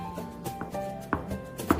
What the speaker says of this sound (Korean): 대파 줄거리 부분이랑 이파리 부분 7cm, 6cm에서 7cm 정도 되는 분량을 썰어주실게요